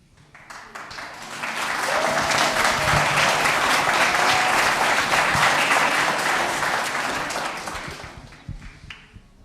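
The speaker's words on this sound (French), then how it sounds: "Merci pour votre écoute et vos applaudissements." An audience at a secondary-school orchestra concert in Perthes claps. The applause swells quickly, holds as a dense sustained roar for several seconds, then tapers off.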